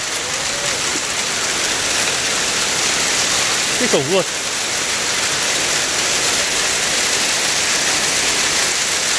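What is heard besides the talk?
heavy hail falling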